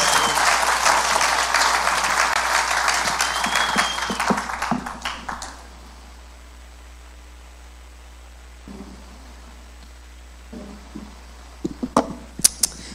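A church congregation claps loudly together in worship, the applause fading out after about five seconds into near silence with a few scattered sounds near the end.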